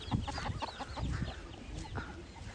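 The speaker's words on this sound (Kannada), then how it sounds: "ಕೋಳಿಗಳೆಲ್ಲ ಮೇಯ್ತಾ ಇದ್ದಾವೆ." Several chickens cluck close by in quick, irregular bursts, a lively overlapping chatter of farmyard fowl.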